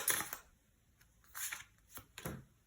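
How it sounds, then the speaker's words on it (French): Tarot cards being drawn and handled, three brief papery bursts of shuffling and sliding spaced across a couple of seconds, close and fairly quiet with no talk. "je vais garder le fiche ici et je vais tirer deux autres cartes"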